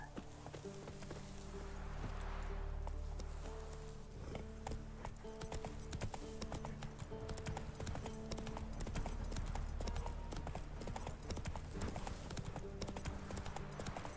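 Roach, the horse in The Witcher 3, clip-clops along at a steady trot with rapid, even hoofbeats, close and clear over ambient game music.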